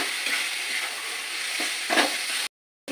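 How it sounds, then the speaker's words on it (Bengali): Spices and chopped tomato fry in oil in a pan for restaurant-style chicken tikka masala, with a steady close sizzle, a few stirring scrapes, and a brief cut to silence near the end. "আর এই ফাঁকে দেবো টমেটো কুচি। মশলাগুলো ভালোভাবে কষিয়ে নেবো।"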